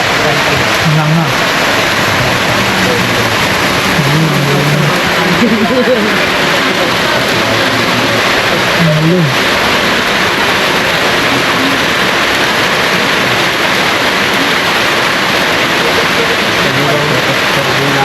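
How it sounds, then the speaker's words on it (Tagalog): Steady, loud rain pours down outdoors on a steep road in Batangas, a dense, unbroken hiss, with people talking faintly underneath. "Ulan na."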